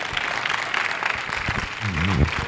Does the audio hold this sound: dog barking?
no